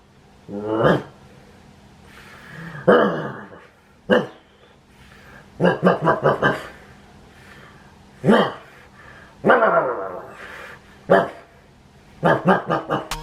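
A man imitates a snore that turns into dog-like barks, giving several short bursts of loud, throaty vocal barking in separate clusters with pauses between them, close to the listener.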